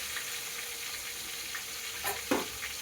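Tomatoes and red chili frying in a pan for a banana curry, a steady soft sizzle with a couple of brief stirring scrapes near the end.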